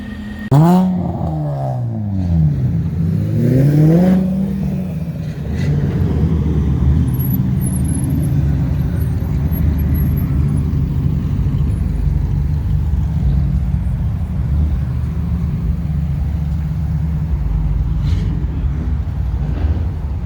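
Cars meet up on a street in Mexico; two sharp engine revs rise and fall in pitch early on, then a steady loud rumble of idling and running engines carries on.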